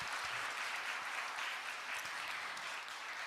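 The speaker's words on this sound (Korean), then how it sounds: "우리 첼렘 중장단을 위해서 우리 격려의 박수 같이 드릴까요?" A congregation at a worship service gives encouraging applause for a choir, a soft, distant wash of many hands clapping that holds evenly for a few seconds with no voices on top.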